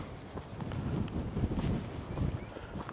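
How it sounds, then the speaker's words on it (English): Gusty wind buffets the microphone on an open hillside walk toward Shining Tor, a continuous low rumbling roar that swells and eases without a break. "Wind's picked up."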